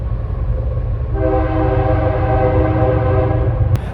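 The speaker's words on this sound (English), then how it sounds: "so that's a really long train. He's still going by." A loud, sustained train horn blares over the heavy rumble of a passing train, with a sharp click near the end.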